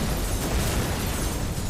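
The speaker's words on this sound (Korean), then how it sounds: "폭발하는 화염 사이로 뛰어내리는 재환" An explosion in a film scene, with a person leaping through bursting flames, comes as a dense, loud, roaring blast of broadband noise that stays fierce and sustained throughout the short moment.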